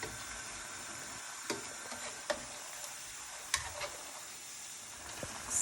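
Vegetable pakoras fry in hot oil with a soft, steady sizzle, faint and close, dotted with a few light ticks and taps, no talking.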